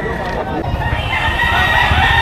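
Rooster at a chicken market in Padre Garcia, Batangas, crowing loudly nearby in one drawn-out call amid busy market background noise.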